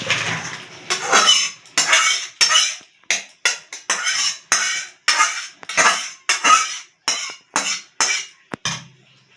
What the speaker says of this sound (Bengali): এবার আমরা শুক্তোটা একটা পাত্রে ঢেলে নিচ্ছি।